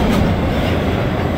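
A monorail train in the sci-fi shooter DOOM 3 runs steadily with a loud, continuous rumble and rail clatter, close and without pause.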